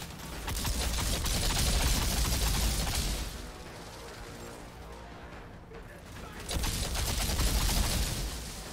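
Dense, sustained rapid-fire shooting of lava projectiles in the video game Outriders, in two loud bursts separated by a quieter stretch, like continuous automatic weapon fire.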